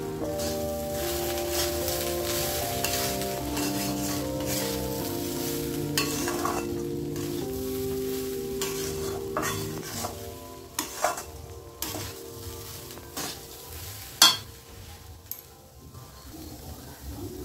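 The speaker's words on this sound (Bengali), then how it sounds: "চাল ডালের সাথে আমি মিশিয়ে নিচ্ছি, মিশিয়ে আমি ভালো করে ভেজে নেব" Rice and lentils being stirred and fried together in a pan for khichuri, with a continuous sizzle under scraping spatula strokes and a few sharper clinks of utensil against metal near the end.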